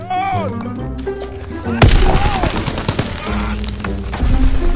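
Pistol shots and other gunfire crack repeatedly in the World War II shooter game Call of Duty WWII, sharp bursts of varying loudness mixed with game effects and players talking over them.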